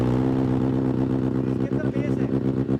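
A Benelli 600i or Kawasaki Z800 motorcycle revs up to about 4000 rpm, its loud, deep, bass-heavy engine note sustained and pulsing close by.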